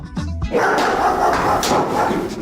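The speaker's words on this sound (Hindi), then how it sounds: "स्टूडियो में हमारे पास कुत्ता कैसे आया?" Dog barking nearby in a studio corridor, two or three quick barks at the start followed by a sustained noisy wash of sound.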